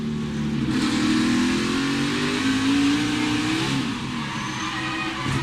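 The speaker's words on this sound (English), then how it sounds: "Riding along, you listen to the throttle." A stock car engine at the 2017 First Data 500 race at Martinsville roars loud and steady, the throttle rising and easing over several seconds, heard close as from on board.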